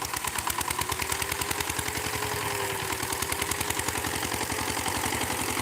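A tractor engine idles in a steady, close chugging rhythm, its even pulses running continuously alone, with no talk, at a paddy and straw separating site.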